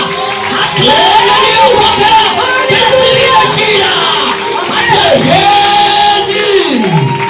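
A church congregation cheers and acclaims during a worship service, loud and continuous, with rising whoops, yells and shouted voices layered over the crowd's roar.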